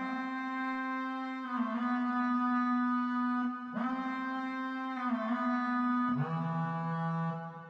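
A stock Pro Tools Vacuum synth plugin with tweaked knobs plays sustained buzzy harmonic tones that change pitch every second or two, clean and mid-level, with no other sounds.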